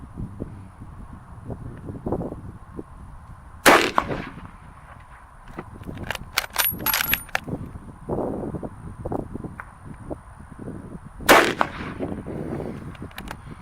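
Two sharp, loud rifle shots from an 1893 Spanish Mauser chambered in 7x57mm, fired outdoors about eight seconds apart, with rustling, wind and handling noise between them.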